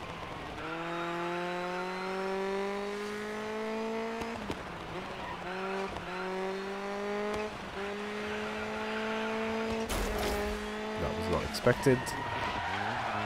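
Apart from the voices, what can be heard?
rally car driving and skidding in the video game Dirt 5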